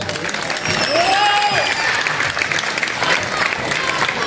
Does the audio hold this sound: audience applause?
yes